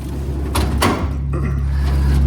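A metal tool box drawer slides open in a workshop, a brief scraping rumble followed by a low steady hum.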